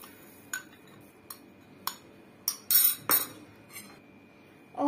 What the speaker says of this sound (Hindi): अब हम इसमें सारी चीनी एक साथ डाल देंगे।